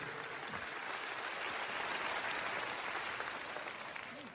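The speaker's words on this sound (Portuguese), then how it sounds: "aplauda ao Senhor em louvor" Sustained congregational applause fills a church during a Portuguese-language sermon, a dense, steady wash of many hands clapping together at full volume for several seconds with no speech over it.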